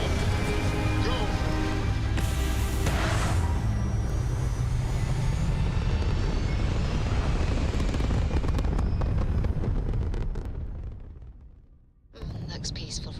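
A spaceship in Starfield lifts off with a loud, sustained rumbling roar and crackling thrust that builds, then fades into near silence before a softer ambient hum returns; a voice speaks over it.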